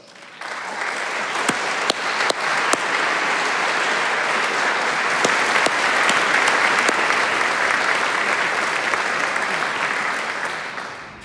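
At an alumni association awards ceremony, an audience applauds past medal recipients as they stand, a dense, steady round of clapping with a few sharp louder claps, lasting throughout and easing slightly at the close.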